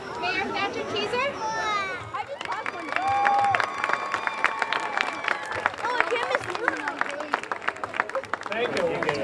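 People by a car cheer and clap behind someone speaking at an outdoor Relay For Life event, whoops and applause rising around his talk, with whistles and crowd noise nearby.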